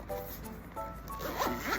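A zipper pulled shut on a carrying case for Zelda: Tears of the Kingdom accessories, a few short rasping runs that grow busier toward the end, close and fairly quiet.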